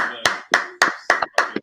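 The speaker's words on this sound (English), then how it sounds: "And clap it up." Hands clap in a steady, even beat at a scripture class gathering, about six sharp, close claps with a short, quick rhythm.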